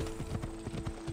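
Horse hooves clip-clop in an Assassin's Creed video game, a quick, steady run of close, even hoof beats filling the short stretch.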